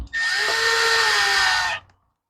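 A power drill runs in one short, steady burst of about two seconds while tightening bolts around a plastic gasket, then stops abruptly.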